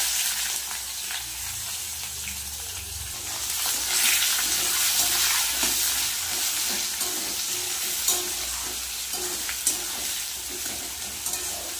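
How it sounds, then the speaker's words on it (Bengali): Dry sliced onions sizzle steadily in hot oil in a pan for chicken kosha, a dense continuous frying hiss with occasional stirring scrapes and a couple of sharper pops near the end, no voices. "তেলের মধ্যে দিয়ে দেবো শুকনো পেঁয়াজ।"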